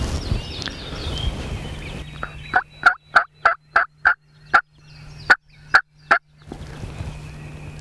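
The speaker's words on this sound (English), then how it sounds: "You stick with us, they're gobbling really good." Wild turkeys gobble in a field, a rapid run of about a dozen sharp, loud gobbling notes in quick rhythm after a few seconds of quiet outdoor background.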